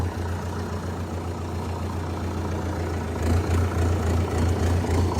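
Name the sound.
Sonalika RX 60 tractor engine idling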